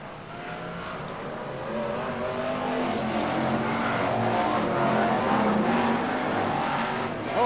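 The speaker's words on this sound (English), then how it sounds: "BriSCA Formula 1 stock cars Heat 2 then for the A class here at sunny Skegness" BriSCA Formula 1 stock cars race a heat at Skegness in 1994: a dense, continuous roar of several engines, with the pack's drone building and holding loud and close, plus faint tire noise in the mix.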